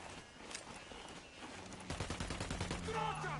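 Gunfire rattles in the video game Ghost Recon, rapid automatic bursts building up toward the end amid faint game noise, with a voice talking quietly underneath.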